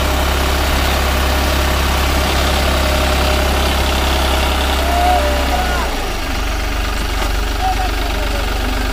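A New Holland 3630 Plus 4x4 tractor engine idles steadily and loudly with a deep, constant rumble throughout, fitted with a sugarcane planter in a field.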